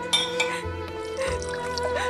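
Water poured into a glass for someone to drink in an Urdu-dubbed drama scene, a brief liquid trickle and faint clink heard close by, with no talk over it.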